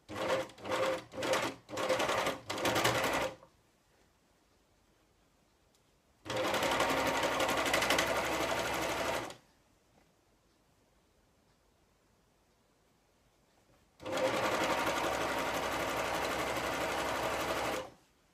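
A sewing machine stitches the first seam of a fabric snood in bursts: several short runs at first, then two long steady passes of loud motor-and-needle whir, with quiet pauses between them.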